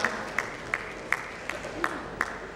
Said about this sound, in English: A big round of applause to Mr. Jadhwani.